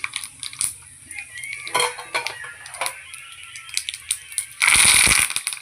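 Mustard seeds hit hot oil in a pan for a Puneri-style colocasia leaf curry, giving scattered crackles and pops with light metallic pan clatter and a louder sputtering burst near the end; a voice speaks briefly.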